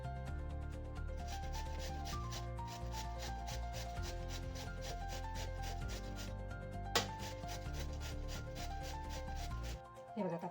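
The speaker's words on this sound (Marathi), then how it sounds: "भोपळा आता मी किसून घेते." A peeled bottle gourd is rubbed over a grater in a fast, even rhythm of scraping strokes, close and steady throughout, ending with a brief clatter.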